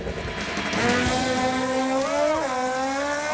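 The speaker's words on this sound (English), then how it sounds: "the burnouts never lie, so let's give a little watch and listen" A 2006 Ford GT's engine revs hard during a burnout, a loud, close rising and falling roar with strong harmonic whine and tire noise mixed in.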